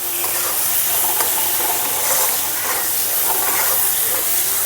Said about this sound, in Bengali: এখন কেটে রাখা টমেটোগুলো দিয়ে দিচ্ছি। টমেটোটা দিয়ে মশলাটাকে খুব সুন্দর করে কষিয়ে নিতে হবে।